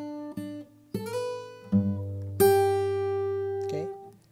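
Acoustic guitar fingerstyle notes ring out one after another, each new note sounding over the sustain of the last, with a low bass note dropping in partway.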